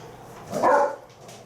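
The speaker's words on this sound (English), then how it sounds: "Sorry, that's my dog." A dog lets out a single short bark or yip from inside a house, rising briefly over a quiet room tone and then fading.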